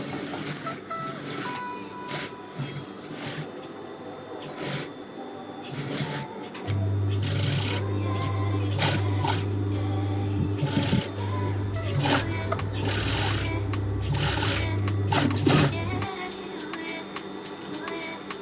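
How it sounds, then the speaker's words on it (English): Sewing machine running steadily as it stitches a 1.5 cm seam on a lazy wrap dress, a continuous close hum for about nine seconds after some handling and rustling of fabric, with no talk. "first sew it with regular machine and then overlock it again, just like the sleeves"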